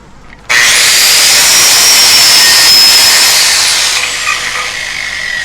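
A power buffer on a welded joint grinds slag from the edge of the bevels with a loud, high, steady whine that starts abruptly, holds for several seconds, then eases slightly as pressure changes.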